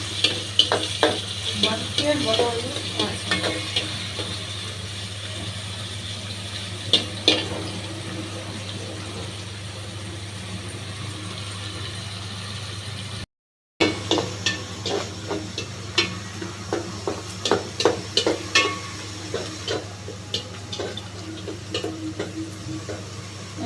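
Onions, chilies and dried shrimp fry in a pan under a steady low sizzle, with repeated scraping and clattering strokes of a stirring utensil, pausing briefly midway.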